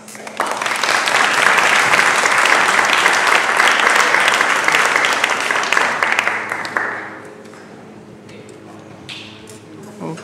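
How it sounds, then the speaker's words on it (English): Loud, dense audience applause after a university panel Q&A at the Kamakakuokalani Center for Hawaiian Studies, sustained for about six seconds before dropping away abruptly, leaving a few scattered claps and faint room noise. "And once again, a round of applause for the panel."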